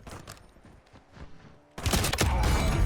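Gunfire in the Warzone video game: muffled shots and rumble at first, then a sudden loud burst of dense, sustained fusillade for the last second or so.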